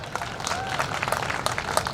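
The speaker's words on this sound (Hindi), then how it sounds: "एक बार जोरदार तालियां।" An audience at a college alumni gathering claps at moderate volume for a couple of seconds, a dense patter of hand claps with some crowd noise, no talk over it.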